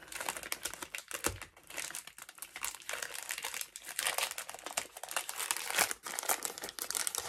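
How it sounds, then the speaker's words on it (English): A small old-fashioned brown paper bag is handled close up, giving a continuous crisp crinkling and rustling with sharper crackles scattered through it and no talk. "I also like these small, more like old-fashioned brown paper bags that Petra did"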